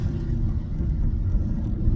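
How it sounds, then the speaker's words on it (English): A deep, steady exhaust rumble from a car, low and throaty, holding constant for a couple of seconds. "that sounds like an American muscle car, that little bit"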